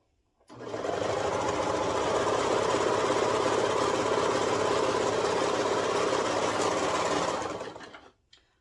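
A sewing machine runs steadily for about seven seconds, stitching the shoulder seams of an oversized tee. It sounds alone, close and even, with no pauses.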